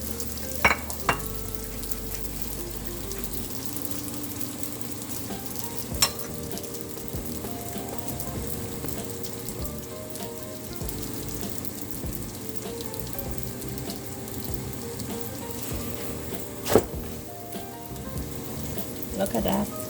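Roti cooking in ghee on a hot pan, a soft continuous sizzle with occasional light clicks and taps of utensils, steady and close under a low background hum.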